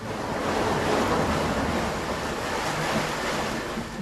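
Paddle wheels churn water in a tannery pit where raw hides soak, making a loud, continuous rushing and sloshing roar without a break.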